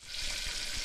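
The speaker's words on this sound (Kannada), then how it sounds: "ಕರಿಬೇವು ಹಾಕ್ತಾ ಇದ್ದೀನಿ." Curry leaves hit hot oil in a bright, crackling sizzle, close and steady for a brief moment, no voices.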